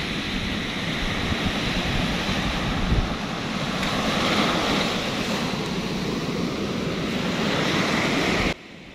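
Steady roar of ocean surf breaking on Krakal Beach, a white-sand beach in Indonesia, continuous and full with a slight wind rush, fairly loud and close, cutting off abruptly near the end.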